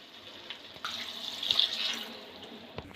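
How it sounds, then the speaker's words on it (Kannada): Water pours from a glass into rice in a pot for green chicken biryani, a soft, steady splashing stream that swells briefly in the middle before tapering off, fairly quiet and without talk. "ಹಾಗಾಗಿ 4 ಗ್ಲಾಸ್ ಅಕ್ಕಿ ನೀರು ಹಾಕ್ತಾಯಿದ್ದೀನಿ"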